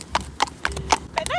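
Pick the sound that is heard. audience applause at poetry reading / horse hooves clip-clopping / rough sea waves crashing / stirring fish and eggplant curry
horse hooves clip-clopping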